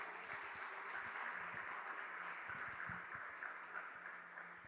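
A church congregation applauds during a sermon, a steady wash of many hands clapping that stays at an even level throughout, with no voices standing out.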